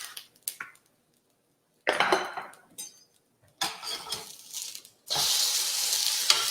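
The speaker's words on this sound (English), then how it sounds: "I'm going to go ahead and just spray the top of them with a little more oil" Sharp bursts of sizzling as artichoke hearts fry in oil come and go in short spurts, ending in a steady, loud hiss.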